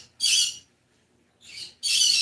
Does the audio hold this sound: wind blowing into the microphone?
no